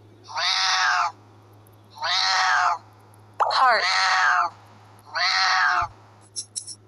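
A cartoon cat in the Pango children's game app gives four evenly spaced, clear meows, loud and close, with a brief spoken word at the very end.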